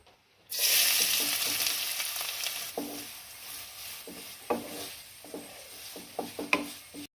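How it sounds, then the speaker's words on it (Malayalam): Loud, steady sizzling of chopped onions frying in hot oil for an okra masala curry bursts in suddenly, with occasional soft clicks and scrapes of stirring over the hiss. "എണ്ണ ചൂടായി വന്നതിന് ശേഷം ഒരു സവാള ചെറുതായിട്ട് അരിഞ്ഞു വെച്ചിട്ടുണ്ട്, അതങ്ങോട്ട് ഇട്ട് കൊടുക്കാം"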